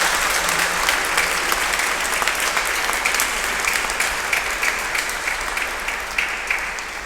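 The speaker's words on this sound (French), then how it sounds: "oui, on peut applaudir" A congregation or audience breaks into sustained clapping, dense and fairly loud, continuing evenly and tapering off only slightly toward the end.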